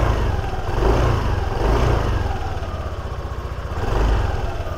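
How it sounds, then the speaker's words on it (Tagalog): The engine of a nearly new Yamaha Aerox V2 scooter with low mileage runs close by. Its buzzing drone rises and falls in several gentle revs over a few seconds. "medyo tahimik pa siya kasi bagong-bago pa tong motor na to."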